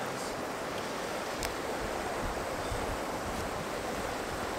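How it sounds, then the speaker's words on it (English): Strong wind buffets the microphone outdoors on a hike in San Juan, a constant broadband roar with no letup, loud and close throughout. "The wind's picking up."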